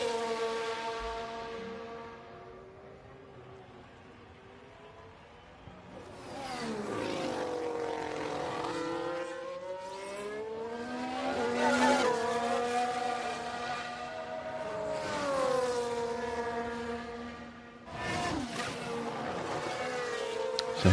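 Formula One cars, including McLarens, race past on track in the F1 Manager 22 game on PS5, their high-pitched engines whining and sweeping in pitch as several cars pass in waves, loud and close, one after another.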